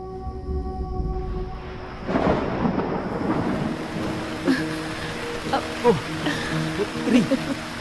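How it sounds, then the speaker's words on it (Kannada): Rain falls steadily with low rumbles of thunder rolling underneath, and a few scattered sharper knocks and voice-like sounds appear over the wash. "ಮಳೆ ಬರ್ತಾ ಇದೆ."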